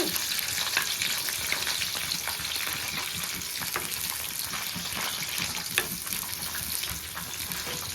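Green chillies and dried red chillies fry in oil for a mango and coconut chutney, giving a continuous, moderately faint crackling sizzle with a few brief pops and no voices.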